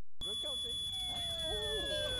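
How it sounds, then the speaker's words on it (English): A smoke detector sounds in The Sims as a kitchen fire burns, a steady high electronic tone that runs alone after a brief silence, with Sim voices chattering over it. "Luckily, we have a smoke detector"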